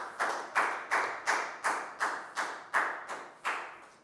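A classroom of Year 4 pupils claps in unison for a classmate, about ten sharp, evenly spaced claps in a steady rhythm, close and fairly loud, with no talking.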